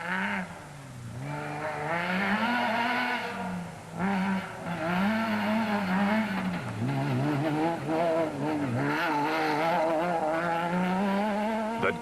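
Rally race cars roar along a dusty, churned-up off-road route in the Sugarbelt 400, engines revving and shifting continuously, loud and close with rising and falling pitch.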